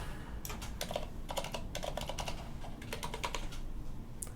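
A computer keyboard clatters as a password is typed, in quick irregular bursts of light key clicks close by and fairly quiet over a steady background hiss.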